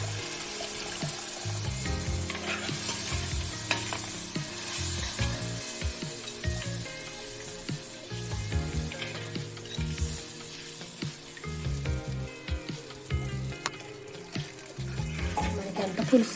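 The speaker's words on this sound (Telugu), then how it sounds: "ఇప్పుడు పులుసు వేద్దామండి" Tamarind juice poured into a pan of spiced Godavari-style small-fish curry sets off a loud, busy sizzle and bubbling with stirring and scraping, close and continuous, with no talk over it.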